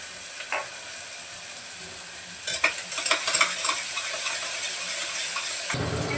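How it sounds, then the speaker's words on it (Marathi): Onion and tomato sautéing in hot oil in a home kitchen pan, a steady bright sizzle with intermittent scraping stirs of a spoon growing busier midway, close and loud, with no talking. "असं तेलातच परतून घेते कांदा टमाटर"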